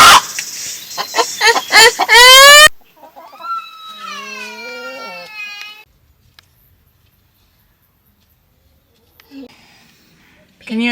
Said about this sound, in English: There's 4 chickens up there.